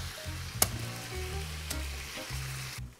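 Chicken rice ingredients frying in a pan, a steady close sizzle with occasional sharp clinks and stirring noises throughout.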